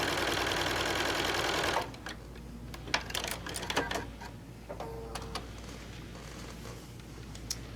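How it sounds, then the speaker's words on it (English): A sewing machine stitching down a quilt seam runs steadily and close for under two seconds, then stops, leaving scattered light clicks and handling taps of fabric and machine parts. "we're going to sew all the way down"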